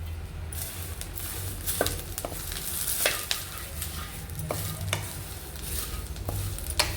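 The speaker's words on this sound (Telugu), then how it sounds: "గోంగూర కూడా బాగా ఫ్రై చేసుకోవాలి. నెయ్యి 2 స్పూన్లు నెయ్యి వేసి" Gongura (sorrel) leaves fry in ghee in a pan, a steady soft sizzle with intermittent scraping stirs from a spoon, close and moderately quiet, with no voices.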